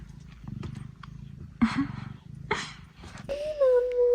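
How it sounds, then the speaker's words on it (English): A pet cat purrs close by in a low, steady rumble that pulses in short bursts, with faint background noise. It ends in a brief, higher, drawn-out vocal sound. "She's purring."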